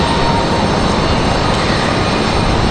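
An American Eagle airliner passing at Raleigh Durham International Airport, a loud, steady broadband engine roar that holds constant throughout with no voices.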